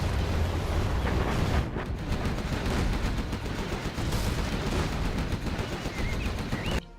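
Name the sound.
artillery and gunfire in a strategy video game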